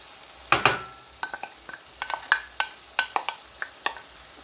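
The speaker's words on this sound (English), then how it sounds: "So the next thing to do is add your onion." Chopped medium-sized onion hitting a hot pan for gluten-free sloppy joes, a sharp sizzle burst followed by a run of soft scraping stir strokes and light clinks at a steady pace, close by with no talk.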